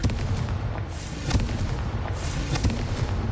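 Repeated Confringo fire-blast spell explosions in Hogwarts Legacy, loud booming bursts that follow one another in quick succession with little pause between them.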